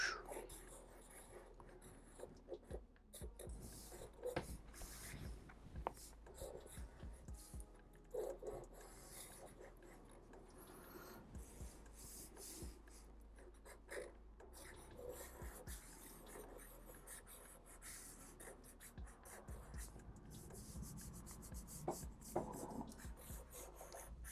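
A pencil sketching jagged tear lines on paper, heard as faint, close scratchy rubbing strokes in irregular short bursts, soft and steady throughout.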